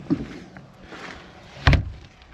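A newly installed door in a woodturning workshop build swings shut with one solid thud and latch click, preceded by a fainter knock as it starts to move.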